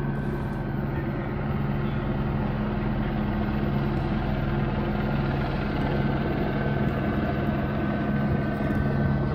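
A police helicopter flying overhead during an arrest scene near a waterfront makes a continuous, loud rotor drone that stays even from start to finish, with no talking.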